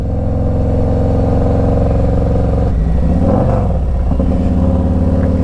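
A Harley-Davidson Street Glide Special FLHXS idles with a loud, deep, pulsing engine rumble nearby, then gets a brief throttle blip that swells and settles back to idle.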